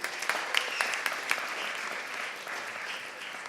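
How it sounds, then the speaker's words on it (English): A conference audience claps steadily for a few seconds, a dense patter of applause from a hall crowd at moderate volume, no talking over it. "I think it's worth an applause."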